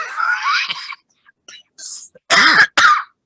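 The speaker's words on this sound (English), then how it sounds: "I cough a lot when I laugh for some reason at the moment." Several short, harsh coughs burst out close by, separated by brief pauses, with a couple of strong bursts near the end.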